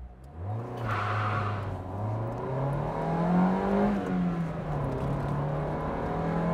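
Vintage car with a five-speed manual gearbox and a 130 hp engine, weighing one tonne, accelerating hard, its engine note climbing steadily in pitch, close and loud, with no talking.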